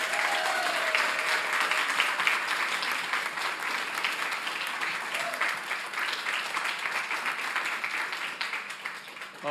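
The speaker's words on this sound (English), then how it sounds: "So could we get a big round of applause for Damien and for everyone here today?" A room at a county school board work session breaks into a round of applause, a steady crowd of clapping that holds for several seconds then slowly thins.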